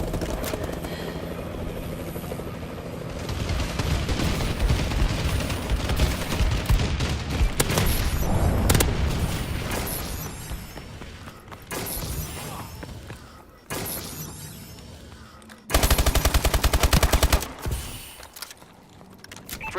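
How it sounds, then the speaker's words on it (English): Bombing run airstrike in the video game Call of Duty Advanced Warfare, with a loud roar of aircraft and helicopter rotors mixed with bursts of gunfire and explosive impacts, rising and cutting off in sharp bursts near the end. "Friendly bombing run clearing the way."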